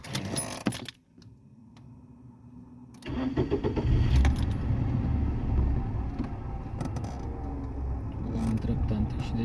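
A Toyota Aygo engine, checked for clutch engagement after adjustment, idles steadily up close after a mechanical clatter and a short quiet gap, with a low continuous hum and faint rattles throughout.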